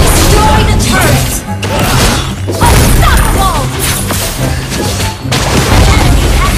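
A turret being destroyed in the Mobile Legends video game: loud booming crashes and whacks over continuous dense game music and effects, with brief dips, as an announcer voice speaks.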